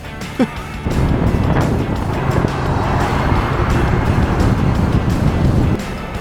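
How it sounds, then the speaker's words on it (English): Generator running in a hybrid electric conversion of a 1963 Buick Electra, a loud steady rumbling drone close by that starts after a brief bump and holds evenly for several seconds before dropping off near the end. "Wait, what is this? It's a generator. It sounds kind of freaky"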